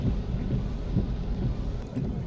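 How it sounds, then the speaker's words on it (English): Heavy rain drumming steadily around a car driving along Constant Spring Road in Kingston toward flooded Half Way Tree, a continuous dense wash with low rumbling road noise and no voices. "So rain drive, we're now on Constant Spring Road heading into Alpha Tree."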